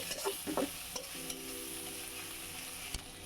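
Ginger and garlic sizzle in a pan while being stirred, a steady frying hiss with a few scraping stirs near the start and a brief clack toward the end.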